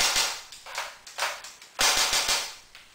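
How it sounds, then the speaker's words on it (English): SEMA airsoft AK-47 rifle rated around 450 FPS fires outdoors in a rapid string of sharp, close snapping shots, mostly in quick bursts with brief gaps between, no voices. "Now this here AK-47 by SEMA, it's about 450 FPS with .2s. Also automatic,"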